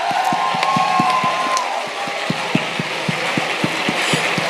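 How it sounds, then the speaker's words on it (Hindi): A live audience at a motivational speech claps in steady rhythmic unison along with music, the loud regular claps ringing clearly over a sustained musical backing. "एक जोरदार तालियां म्यूजिक के साथ"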